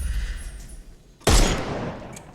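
A single sharp gunshot in the video game Sherlock Holmes: Chapter One bursts out loud after a low ambient lull, followed by a lingering, decaying rumble.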